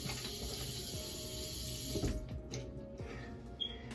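Tap water runs steadily into a bathroom sink while a face is being wetted, a continuous close splashing hiss that thins out partway through with a few small splashes and drips.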